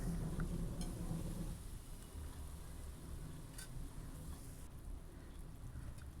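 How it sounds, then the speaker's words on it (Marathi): Onion and tomato frying in a pan: a soft, steady sizzle with faint crackles, louder at first and then settling into a quiet, even hiss. "टोमॅटो पण छान असा मस्त कांद्यासोबत भाजून घ्यायचा आहे"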